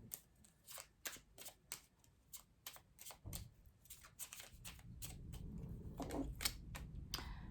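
Tarot cards are drawn and handled from a deck, making a quiet series of soft, crisp flicks and slides with irregular spacing and faint rustling between them.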